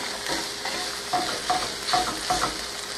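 Tofu and vegetables sautéing in a pan, loud close sizzling with quick, rhythmic spatula stirs and scrapes, with no voices over it.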